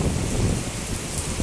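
Rain pouring down in Brunei, a dense, steady hiss of heavy rainfall with a deep rumbling undertone, close and loud with no voices.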